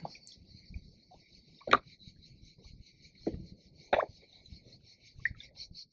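Continuous high cicada chirring in the background, steady and moderately loud, with a few sharp knocks and faint rustles, beside the Étang de Bages near Gruissan.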